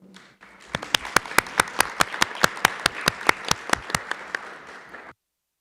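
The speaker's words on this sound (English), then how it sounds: "if we can give them a round of applause too" At a school district board of education meeting, a small audience claps in sparse, distinct, evenly spaced claps over a thin patter, ending abruptly into silence.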